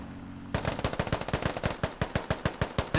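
Sudden bursts of automatic gunfire in a military shooter video game, a rapid, evenly spaced string of loud, sharp shots that continues for several seconds after starting abruptly, with no voices over it.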